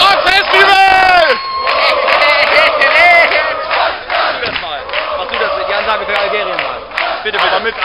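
A festival audience at the 2011 Minirock Festival in Horb roars with loud cheers, whoops and shouted calls, a dense crowd swelling and surging close by.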